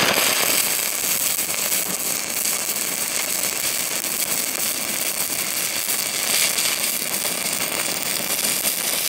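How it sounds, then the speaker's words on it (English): A stick welder running a bead with 7018 rod on a DecaPower PMCT-205, laying a weld between two MIG welds; a steady, loud, dense crackling hiss holds unbroken for the whole stretch with no talking. "I'm gonna run me a bead right in between those MIG welds right there."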